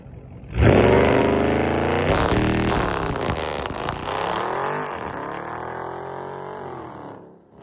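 A Dodge Charger Scat Pack in track mode launch control revs up hard and holds a loud, steady engine roar near the listener for several seconds, then the pitch dips and rises again before cutting off.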